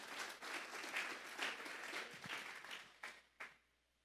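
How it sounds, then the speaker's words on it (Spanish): A church congregation applauds during a sermon, a dense wash of many hands clapping at steady volume that thins out into a few last claps before going quiet. "Vamos a darle un fuerte aplauso pues al Señor esta tarde"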